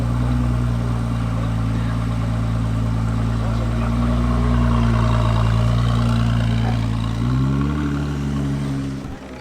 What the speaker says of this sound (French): je pense que l'échappement est modifié, écoute ça